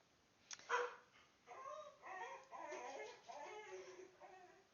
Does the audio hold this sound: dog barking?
yes